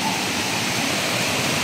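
Water rushes steadily past a bridge in a muddy, rain-soaked rural spot, a dense close wash of stream flow with no talk over it.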